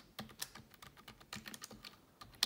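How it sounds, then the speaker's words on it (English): A PIN is typed on a computer keyboard while setting up Windows Hello for Business: a short burst of about a dozen close, quick key clicks in uneven rhythm, with no talk. "So what I'm going to type in is just my pin."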